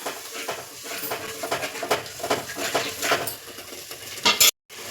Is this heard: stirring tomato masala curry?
yes